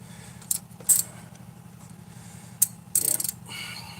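A plumber's ratchet turns the last bolt, giving a few short metallic clicking bursts and jangles over a low steady background hum, close by and without talk.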